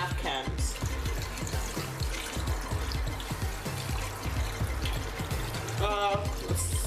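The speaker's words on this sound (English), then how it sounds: "So you're gonna add your broth in just to cover your oxtails" Beef broth pours from a can over oxtails in a pot for a Caribbean-style stew. The liquid splashes and trickles continuously up close for several seconds.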